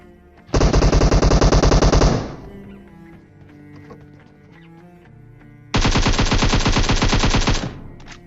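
Automatic gunfire in the PUBG Mobile battle royale game on the Erangel map, two long sustained bursts of rapid shots, loud and close, separated by a few seconds of quieter background game sound.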